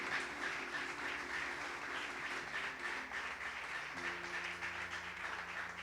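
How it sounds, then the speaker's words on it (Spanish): A church congregation applauding the Lord during a sermon, steady sustained clapping over a soft background of organ or keyboard chords. "Denle un aplauso al Señor"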